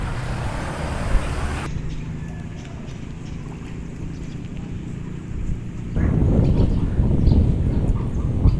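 Wind buffets the microphone at an outdoor tilapia fishing spot, a loud low rumbling roar that eases briefly and then gusts harder toward the end.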